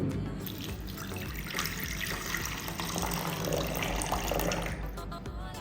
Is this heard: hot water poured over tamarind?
yes